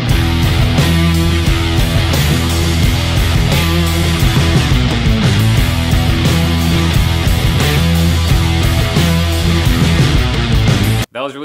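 Studio recording of an original song plays loud and full, a dense band mix with steady driving rhythm and sustained tones throughout, cutting off abruptly at the end.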